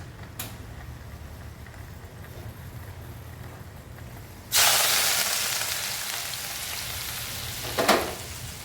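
Hot tempering (popu) poured into prawn gongura in a pan, setting off a sudden loud hiss that slowly fades, then a brief second burst, after a quieter stretch of low kitchen noise.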